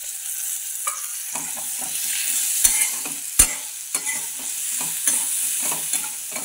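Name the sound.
green tomatoes stirred and frying in a pan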